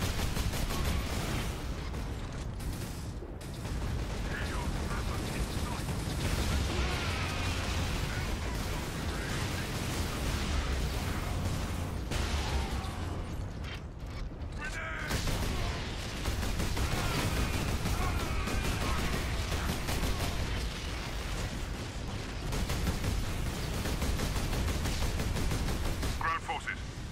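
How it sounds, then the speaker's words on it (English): Battle noise in the video game Warhammer 40K Space Marine with a grenade explosion and gunfire: a continuous dense roar of shots, bursts and blasts at steady loudness, with game voices talking over the din. "Grenade."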